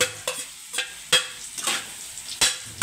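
Hotdog frying in a pan with bell pepper, carrots and black pepper, a steady close sizzle punctuated by sharp scrapes and clacks of stirring, with no talking.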